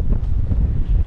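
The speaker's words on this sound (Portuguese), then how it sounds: "Hoje tá mais balançando, vento forte" Strong wind buffets a fishing boat rocking on the open sea about 13 km offshore, a steady low roar of gusts against the microphone throughout, with no talk.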